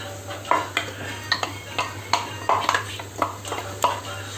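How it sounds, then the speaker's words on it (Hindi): A spoon scrapes and clinks against a pan as chole gravy is added to two spoons of oil and stirred, repeated metallic taps over a steady low hum, with a voice speaking at times. "इसके बाद हमने जो ग्रेवी बनाई वो ग्रेवी हम इसमें डाल देंगे"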